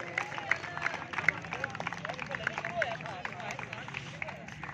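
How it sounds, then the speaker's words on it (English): An audience claps and cheers for children after a karate show, scattered lively applause mixed with crowd chatter and voices talking over it. "A huge round of applause for these kids."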